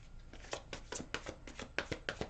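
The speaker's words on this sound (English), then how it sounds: "If any of these fall out while I shuffle them, they go back in the deck." Slippery, glossy tarot cards being shuffled by hand in a quiet room, a run of soft riffling flicks and taps in an uneven rhythm, close and fairly quiet, with no voice.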